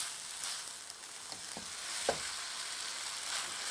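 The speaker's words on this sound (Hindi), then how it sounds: "जस्ट आपने यूं इसको स्टर करना है, यूं हल्का सा" Food being gently stirred in a pan, a soft sizzling hiss throughout with a few light scrapes and taps of the spoon.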